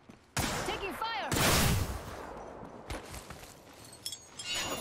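Apex Legends gunfire: a few sharp bursts of shots crack out amid game noise, with voices speaking over part of the action.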